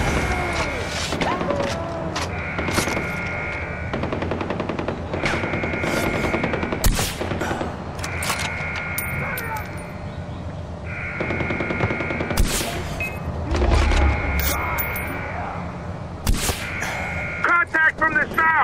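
Heavy gunfire in the video game Far Cry 4, repeated automatic bursts and single shots crackling loudly and nearly continuously, with shouted voices mixed in among the shooting.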